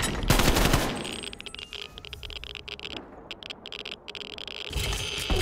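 Light machine gun fire in a video game: a loud opening burst, then a stretch of quieter, rattling automatic shots with brief gaps, and another heavy burst to close, with no voices.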